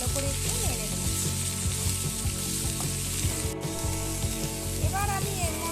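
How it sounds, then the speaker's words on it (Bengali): Vegetables with chopped onion and crushed garlic sizzle loudly in hot oil while being stirred, a constant bright frying hiss broken by repeated scraping strokes of the spatula across the pan. "পেঁয়াজ কুচানো আর রসুন থেতো করে নিয়েছি সেটা দিয়ে এবার ভালো করে আমি একটু সব কিছুর সাথে নেড়ে নেব"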